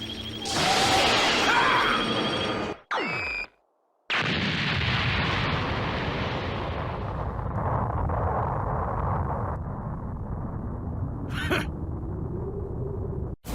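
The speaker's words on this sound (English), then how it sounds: "Have a taste of Super Vegeta's Big Bang Attack!" Super Vegeta's Big Bang Attack energy blast from Dragon Ball Z: a long, loud roaring explosion that rumbles for several seconds, broken by a sudden drop and sharp whooshing bursts, then a sustained thundering blast that slowly fades.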